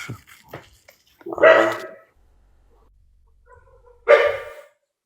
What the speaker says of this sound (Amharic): ውሻ እየጮኸች ነው።